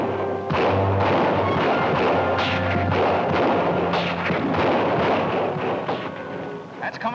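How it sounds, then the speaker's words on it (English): A rapid barrage of gunshots fired out of hotel windows in a 1949 western, dense overlapping cracks and booms running continuously and loud with echoing reverberation. "it can't be just the dame not doing all that shooting"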